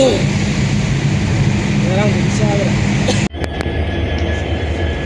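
Steady loud rumble and hiss of a busy platform at Guwahati railway station, with people talking, a brief faint squeal, and an abrupt shift in the background noise partway through.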